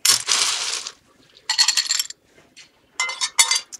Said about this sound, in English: We'll add a little bit of ice.